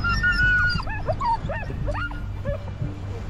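Hunting dogs in the taiga yip and bark excitedly from a boat on a river, with quick whining barks over a low engine rumble.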